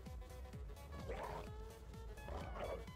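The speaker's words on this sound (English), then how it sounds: "I knew I heard you, you little sneaky dogs." Dogs in the survival game Space Engineers let out faint yips and whimpering barks, two short clusters heard low in the mix over a steady game hum and rhythmic thumps.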